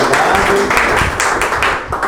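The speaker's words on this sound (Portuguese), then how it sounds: "salve de palmas para a Cris." A church audience at a pastoral psychology class gives a loud, dense round of applause for a presenter, continuous clapping for a couple of seconds.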